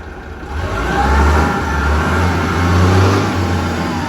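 A Doosan D60G diesel forklift rated for 7 tons, automatic transmission, runs steadily nearby with a low, loud engine drone that swells slightly as it revs, alone without talk.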